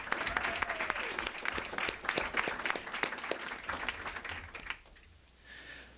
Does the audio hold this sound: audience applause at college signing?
yes